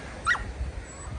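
A dog in a parked vehicle on a seaside promenade gives a single short, high whimper near the start, close by, over low engine-like rumble and background noise.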